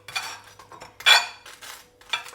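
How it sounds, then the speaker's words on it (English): A knife scraping butter across toast in short rasping strokes, interspersed with light clinks of cutlery against a plate, close and without talk. "just gonna butter it up"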